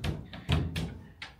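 Squeaky double wardrobe doors in a hotel room knock, thud and rattle several times in quick succession, close and fairly loud.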